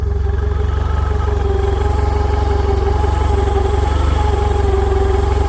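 A Honda 130-horsepower boat engine idles smoothly after a tension bearing replacement, with a steady, constant low rumble and a faint tonal hum, running evenly without revving throughout.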